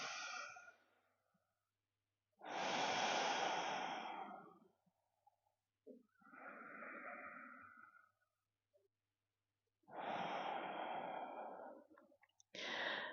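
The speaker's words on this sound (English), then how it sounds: "take 3 slow, steady breaths" Slow, steady breaths during a yoga session for the lower back and sciatica, heard as three long, soft exhalations separated by quiet pauses, close and alone with no talking.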